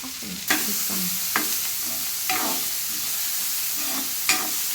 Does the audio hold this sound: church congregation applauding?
no